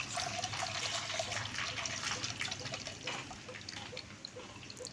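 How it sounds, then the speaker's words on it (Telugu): Tamarind being squeezed by hand in water for dal rasam, giving a steady wet trickling and dribbling of liquid with small splashes, close and continuous without talk. "చింతపండు రసం అయితే పిండుతున్నా చూడండి"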